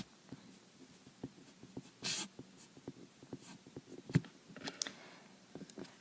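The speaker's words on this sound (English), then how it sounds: "So I'll just write this 3 times." A pencil writes out math on paper, giving soft scratchy strokes and light taps in an irregular rhythm, faint and close, with a couple of louder scrapes.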